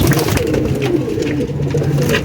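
Paired pigeons at a fancier's loft coo up close in soft, repeated low throaty calls, overlapping over a couple of seconds.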